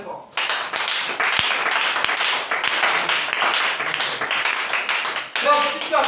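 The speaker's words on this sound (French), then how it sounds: "Acclamons très fort." A church congregation claps and cheers loudly for several seconds after a preacher's call, dense close applause that stops abruptly, with voices mixed in.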